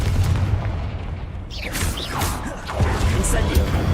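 A booming blast from the Confringo spell in the video game Hogwarts Legacy, a loud explosive burst followed by crashing debris, with a voice speaking over it.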